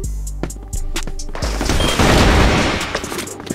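Rapid bursts of gunfire from a video game weapon, a fast run of loud cracks and booms packed close together, swelling into a dense roar in the middle before trailing off into scattered shots.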